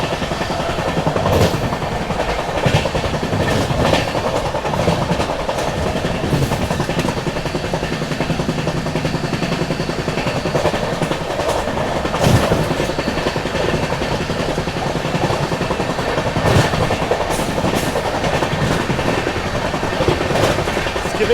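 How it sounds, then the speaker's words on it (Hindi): Steady rumbling clatter of train wheels running over rail track, continuous and close, with periodic louder clacks at joints and no talking, heard from a passenger train passing Bayana railway station in India. "ट्रैक साउंड एंजॉय कीजिए आप बस।"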